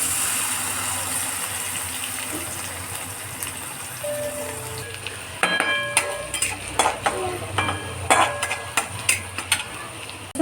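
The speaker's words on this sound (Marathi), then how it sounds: "शेंगदाणे काढून घेतल्यानंतर आपल्याला त्यात लसूण टाकून घ्यायचं आहे." Garlic frying in oil in a pan after peanuts were fried for maize papdi chivda, a steady low sizzle joined midway by a run of sharp scraping and clinking stir sounds.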